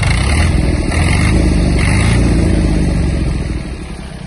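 A Yanmar F-255 Japanese mini tractor engine revs loud and close, holding a steady rumbling throttle before easing off slightly near the end.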